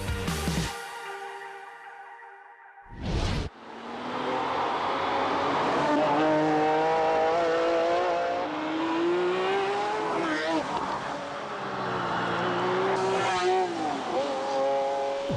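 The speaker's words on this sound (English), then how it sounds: "There really is nothing like a V12 engine, is there?" Ferrari F50 V12 engine revving and accelerating, a loud rising and falling mechanical howl that holds for several seconds with shifting pitch, with a voice talking over it.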